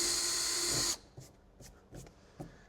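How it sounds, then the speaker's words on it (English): A power drill with a true 1/4 inch bit bores a hole during installation of a Fusion Oxi-Gen system, a loud steady whine for about a second that stops abruptly, followed by a few faint scattered clicks and handling sounds. "And I usually drill it somewhat out towards the side here."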